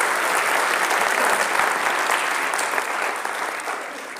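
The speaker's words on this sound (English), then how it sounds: "A round of applause." An audience at a talk breaks into applause, a dense, even clapping that holds steady and then slowly tapers off near the end.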